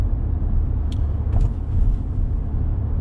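Mercedes CLA 45 AMG Shooting Brake running in sport mode, a steady low exhaust rumble with a faint rising note, heard from inside the car with continuous road drone and no talking.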